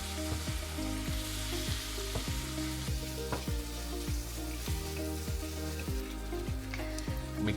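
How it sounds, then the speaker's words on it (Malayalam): Mangrove and rock clams fry in masala for a clam roast, a dense continuous sizzle overlaid with regular rhythmic scraping or knocking from stirring, close and fairly quiet, with no talking. "ഇതിലേക്ക് ഇട്ട് കൊടുക്കുക. നന്നായിട്ട് മസാലയായിട്ട് മിക്സ് ചെയ്ത് കൊടുക്കും കേട്ടോ."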